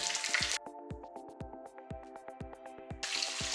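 Gołąbki-style minced meat patties frying in a pan, a sizzle heard in bursts at the start and end, with a quieter stretch between where the crackle drops back and soft, regular ticking pops repeat about twice a second.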